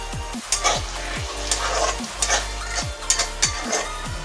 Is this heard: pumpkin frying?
yes